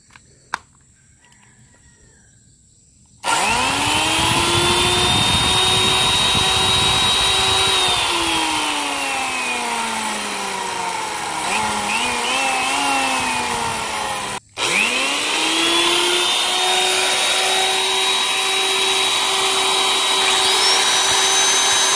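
A large electric drill runs on a 1000-watt solar backup power setup, with a loud close whine that winds up, holds steady with slight dips in pitch, stops briefly and spins up again.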